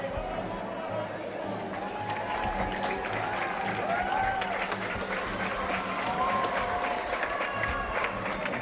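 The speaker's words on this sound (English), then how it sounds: "Big cheers from the crowd." A crowd at a physics-class boat race applauds and cheers outdoors, a continuous mix of clapping, shouts and whistles with voices talking throughout.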